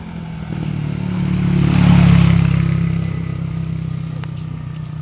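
A motorcycle passes close on a town street, its engine swelling to a peak and then fading as it moves away.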